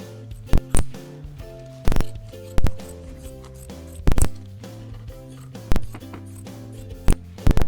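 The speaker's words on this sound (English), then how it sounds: "Make sure you trim this batting that's in between the units as well." Scissors trimming quilt batting between sewn units. Crisp, close snips land at irregular intervals, about a dozen cuts, each with a short ringing tail, with no voices.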